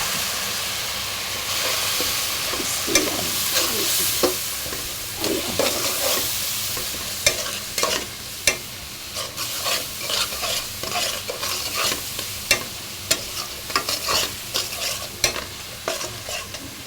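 Bottle gourd fries in a pan with cumin and salt and is stirred: repeated close scraping strokes clatter over a continuous loud sizzle, with no talking.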